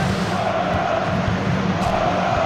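A stadium crowd cheers in a FIFA 2002 football game as Manchester United go 3-0 up in a cup final, a dense, sustained roar with swelling shouts throughout.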